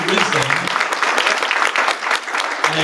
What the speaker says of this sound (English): Give them a round of applause for their nuggets of wisdom